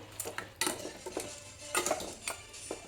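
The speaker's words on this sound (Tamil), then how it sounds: "தண்ணி ஊற்றிட்டு ஒரு வாட்டி கலந்து விட்டுட்டு" A metal spoon stirs mutton and water in a cooking pot, giving a series of irregular clinks and scrapes against the metal, close and moderately loud.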